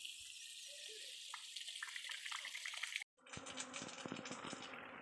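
A village stream flows with a steady, soft rush of water, broken by a brief cut partway through, and faint buzzing sits in the background.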